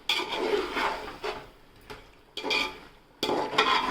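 Chicken biryani curry masala stirred in a pot, a spoon scraping the pot in several close, distinct bursts with short pauses between strokes.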